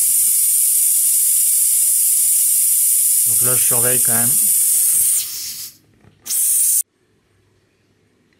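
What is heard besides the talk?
water heater purge valve hissing while bleeding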